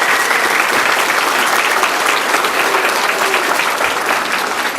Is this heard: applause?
yes